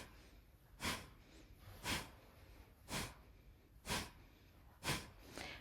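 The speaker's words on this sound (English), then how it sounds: "I call it the fire breath, and it's done using the core muscles, the belly muscles, in a slow fashion" Yoga fire breath driven by the belly muscles: six forceful nasal exhalations in a slow, even rhythm about a second apart, close and breathy, with no speech.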